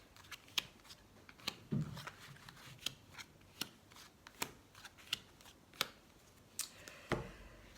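Tarot cards being shuffled and dealt for a nine-card reading: a steady run of crisp, close card snaps and flicks at a fairly even pace, with soft rustling between them and no talking.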